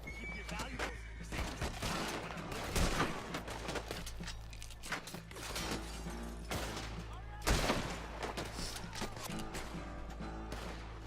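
Rifle shots in Red Dead Redemption 2, a few sharp cracks ringing out among scattered gunfire, horse whinnies and game ambience, with someone talking over the action.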